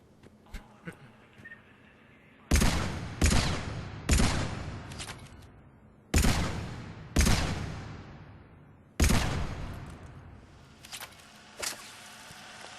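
Carnifex heavy pistol firing at long range in Mass Effect 3: six sharp, loud single shots in uneven pairs, each cracking out and decaying into a ringing tail, with quiet pauses between.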